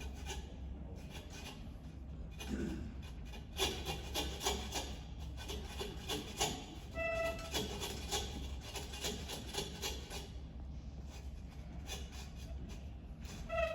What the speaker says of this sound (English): he's going to cut down through the ribs with the saw